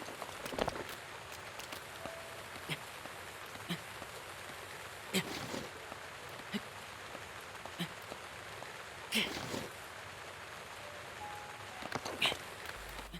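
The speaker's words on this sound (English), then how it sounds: "this rain is not making it easy for me" Steady rain in the video game Zelda: Breath of the Wild patters softly on surfaces, a constant hiss with occasional louder drips and splashes.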